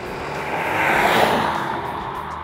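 A 2014 Honda Accord Coupe with a 3.5-liter VTEC V6 accelerates, its engine note building into a broad rushing roar that peaks at mid-clip and then eases away.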